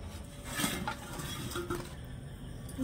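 Fried sweets are stirred into hot sugar syrup in a pan, giving light metallic clinks and scrapes of a utensil against the pan over a soft background hiss, with no one talking.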